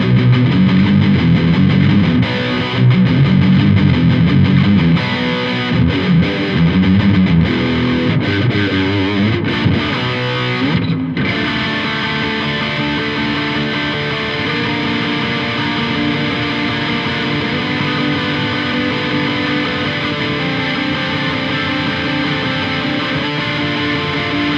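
Electric guitar played through a Blackstar HT DISTX distortion pedal, a loud, thick distorted tone with chugging rhythm at first, then sustained ringing chords that hang on to the end.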